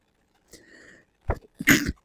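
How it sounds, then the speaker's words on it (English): One close sneeze: a short breathy intake followed by two sharp explosive bursts, loud and alone with no talk around it. "Sorry, I had to sneeze."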